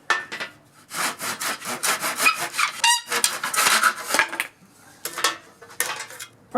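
A small hand saw cutting exterior door trim to length, close rasping back-and-forth strokes in a quick steady rhythm, pausing briefly before a few final strokes.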